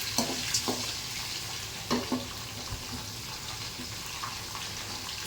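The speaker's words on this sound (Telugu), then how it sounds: "ఇది కొంచెం లైట్గా వేగిన తర్వాత పచ్చిమిర్చి యాడ్ చేసుకుంటున్నాను. దీన్ని ఒక హాఫ్ మినిట్ లేదా 1 minute వరకు వేయించాను." Green chillies frying in oil in a pan for mango rice, a low continuous sizzle with a few scattered spoon scrapes and taps, close-up and fairly quiet with no one talking.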